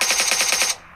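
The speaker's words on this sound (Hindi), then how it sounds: "गोली चला रहा है यहाँ से" Rapid automatic gunfire from PUBG Mobile, about seven loud, evenly spaced shots in quick succession that stop abruptly with a short tail.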